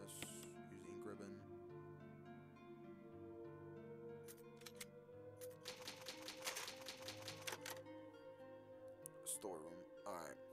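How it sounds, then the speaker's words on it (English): In a Resident Evil video game, an old typewriter saves progress with an ink ribbon: bursts of rapid mechanical key clacks over quiet background music, with a voice talking in between. "There's an old typewriter."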